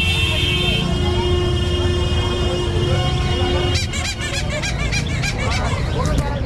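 Pigeons for sale at a busy pet market in Uluberia give scattered calls and flutters amid steady crowd chatter and background market noise, with a brief honk-like tone near the start.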